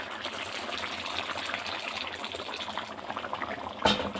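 Water pours into a cooking pot of sauce in a home kitchen, making a continuous gushing splash for several seconds. It ends with a short clink.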